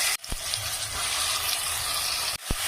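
Whole spices, a bay leaf, cinnamon, cloves and two cardamom pods, fry in hot oil with a loud, continuous close sizzle, broken near the start and end by brief dull knocks.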